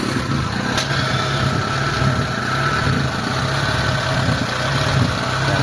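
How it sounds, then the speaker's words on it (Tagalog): Mitsubishi Lancer engine running rough at idle with a misfire, a steady loud close drone with an uneven pulsing beat and popping from the exhaust, no talk over it. "Puputok-putok yung tambucha mga boss."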